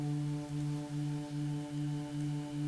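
A looped synth reverb tail played higher in a sampler gives a quiet, steady tonal drone that pulses in an even cycle about twice a second.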